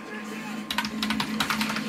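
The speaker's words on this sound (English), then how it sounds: "I just typed in a site." A computer keyboard in a home editing setup gets short runs of close, crisp keystrokes over a low steady hum, with a brief quiet pause before the typing starts.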